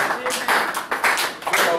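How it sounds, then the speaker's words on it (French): A church congregation claps together in acclamation for the Lord, brisk rhythmic bursts of clapping roughly twice a second, with voices mixed in. "Acclamation pour le Seigneur."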